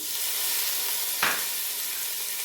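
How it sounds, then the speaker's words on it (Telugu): Tomato pieces fry in ghee and oil alongside mint and cashews for pudina rice, giving a steady, loud, close sizzling hiss with one brief stir or bubble pop partway through. "టమాటా ముక్కలు కూడా నెయ్యి నూనెలో బాగా వేగాలి"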